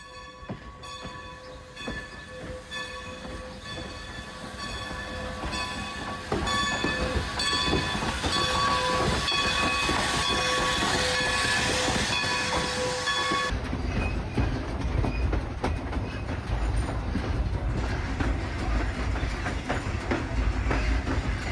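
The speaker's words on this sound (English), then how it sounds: "it's just uncoupled from the train. It's going to reverse down" A locomotive, just uncoupled, reverses to couple onto the back of a train, rumbling and clattering steadily with rhythmic wheel clicks and humming engine tones, loud and close, shifting to a heavier roar partway through.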